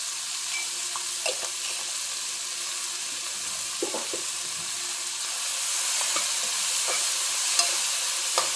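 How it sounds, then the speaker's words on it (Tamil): Onions sautéing in oil for pepper chicken, a dense continuous sizzle and crackle filling the clip, with faint intermittent scrapes of a stirring spoon and no voices. "நல்ல வெங்காயம் நல்லா வதங்கட்டும்"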